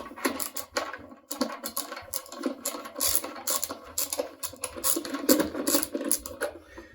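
A power driver whirs in short bursts while removing the center screw from a Hayward Navigator V-Flex pool cleaner, close with rattling mechanical clicks.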